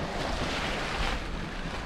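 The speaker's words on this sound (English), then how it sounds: "We've got full sails out and we're whizzing along towards our destination." A sailboat runs offshore under full sail between the Azores and Madeira, with loud, constant wind rush and wave wash against the hull, rough and broadband throughout with no voices.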